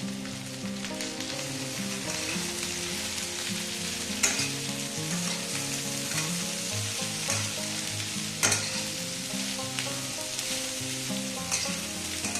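Green chillies and potato frying in a pan on medium heat, a steady sizzle with occasional stirring knocks, close, running under music throughout.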